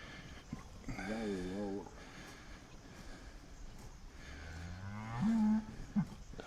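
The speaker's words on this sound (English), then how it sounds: "It's a cow." A cow moos during cattle pregnancy checking on a farm, its harmonic lowing rising near the start and again more loudly toward the end, with people talking around it.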